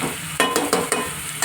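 Stirring mango and prawn curry in a pan, several scraping spoon strokes in a steady rhythm over a continuous soft sizzle, close and moderately loud, with no talking.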